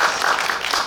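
Audience applause at a national youth climate change debate contest, a short dense wash of many hands clapping steadily throughout, moderately loud with no voices on top.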